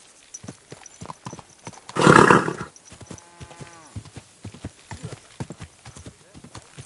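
In Kingdom Come: Deliverance II, a horse's hooves beat in a quick, even rhythm from start to finish, broken near the middle by a loud, rough neigh or snort.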